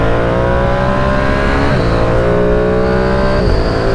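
A Ducati Streetfighter V2 motorcycle engine drones loud and close while riding, a steady gritty tone with two brief dips where the pitch shifts between gears.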